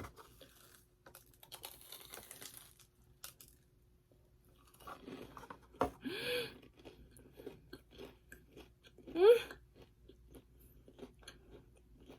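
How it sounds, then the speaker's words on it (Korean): Whole mozzarella being bitten and chewed close to the mic, with a few distinct crunchy bites and soft mouth sounds spread over a quiet room. "그냥 통모짜 먼저 먹어볼까?"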